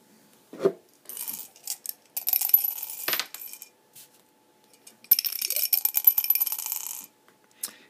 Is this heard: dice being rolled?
yes